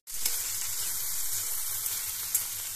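Yogurt poured into frying masala for masala bhindi, bursting into a loud, steady hiss of sizzling that carries on evenly up close.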